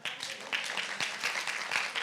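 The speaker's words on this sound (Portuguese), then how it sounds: "Você pode aplaudir ao Senhor?" Churchgoers at a Bible training class applaud, a soft crowd of hands clapping with a few sharper individual claps popping out over a faint, distant wash.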